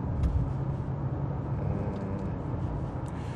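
An Audi A6 40 TDI diesel pulls hard under overtaking acceleration, giving a steady, heavy low rumble with road and wind noise that stays even and moderately loud throughout, with no talk.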